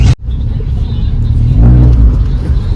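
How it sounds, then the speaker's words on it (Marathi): A car in a traffic jam near Panvel gives a loud, steady low engine rumble from close by. The drone has one brief dip near the start and swells slightly in the middle. "जाम ट्रॉफिक आहे."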